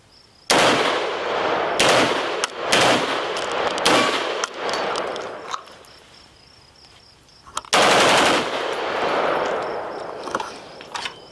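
Full-auto .50 Beowulf rifle fires several loud, close bursts of rapid booming shots, with clanging echoes and ringing decay between bursts and a final long burst.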